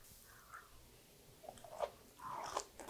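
A few soft, close bites and crunches on steamed broccoli dipped in almond yuzu sauce, quiet, separate chomps with a brief cluster of louder crunching toward the end.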